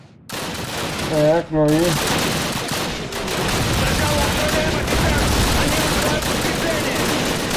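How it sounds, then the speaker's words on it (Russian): Continuous rapid automatic fire from a PPSh submachine gun in Call of Duty, loud and close, running almost unbroken for several seconds after a brief spoken line. "Хоть он и не точный ППШ, но зато мощный."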